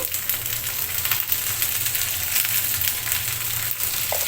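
Okra fries in a pan while being stirred, giving a steady, close hiss and crackle with faint scraping throughout and no one speaking.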